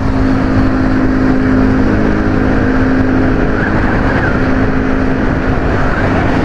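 A carbureted Honda Beat scooter ridden through Jakarta under light throttle, its engine droning steadily and loudly with continuous wind and road noise around it.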